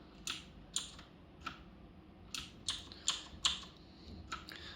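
Keys clatter on a cheap $31 mechanical keyboard, several sharp, close clicks in an irregular typing rhythm with brief pauses between bursts, quiet and alone.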